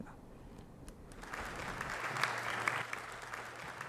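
An ovation of applause greets the president of Mauritania at the opening of an international forum, a broad crowd clapping that swells and holds steady, fairly distant and evenly spread.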